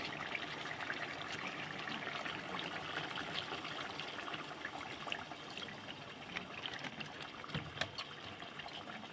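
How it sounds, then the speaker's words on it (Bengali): Rose water pours into a pot of chicken biryani as a faint, steady trickle, quiet and continuous with no talking. "এবারে দিয়ে দেবো গোলাপ জল"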